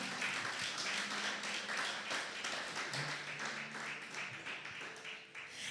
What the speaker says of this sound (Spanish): Démosle fuerte ese aplauso a esta palabra